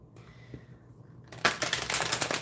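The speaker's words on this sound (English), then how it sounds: "trying to shuffle basically 2 oracle decks together is a little difficult" A thick Witches' Wisdom tarot deck mixed with oracle cards is shuffled up close, quiet handling sounds giving way to a dense, loud riffling flutter of cards.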